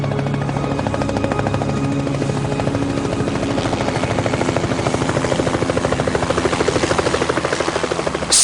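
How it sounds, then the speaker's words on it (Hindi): Rescue helicopters over an ocean plane crash site, a steady loud rotor chop with rapid regular beating and turbine buzz, close and continuous, no talking. "बचाव हेलीकॉप्टर जल्दी ही दुर्घटना स्थल पर पहुंच गए"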